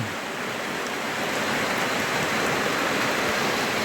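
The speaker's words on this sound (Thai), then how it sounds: "แต่ฝนตกเนาะฝนตกนักหลายเลย" Heavy rain pours steadily and loudly on a riverside fishing spot, a dense, continuous hiss with no break through the whole stretch.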